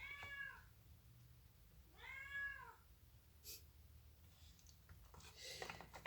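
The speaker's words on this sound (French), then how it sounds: "j'ai mon chat qui miaule derrière" A pet cat meows twice indoors, the two drawn-out cries about two seconds apart, fairly close and clear against a quiet room, followed by a few soft clicks and rustles.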